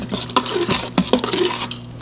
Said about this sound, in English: I'm going to stir to combine this all